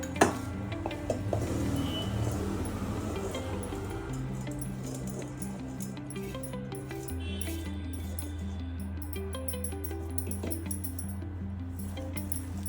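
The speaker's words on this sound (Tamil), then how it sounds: "இதை நல்லா மிக்ஸ் பண்ணிவிட்டு நம்ம தேவையான அளவு உருண்டை பிடிச்சிக்கிட்டோம்." Sautéed aloo stuffing is mixed in a bowl with a spoon, producing soft, continuous scraping and light clinks against the bowl, close and steady over a constant low hum.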